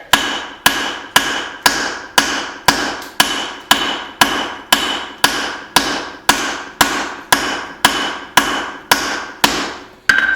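A hammer forges a hatchet with the cross peen, striking hot steel on an anvil in a steady series of about eighteen loud, ringing blows spaced roughly half a second apart.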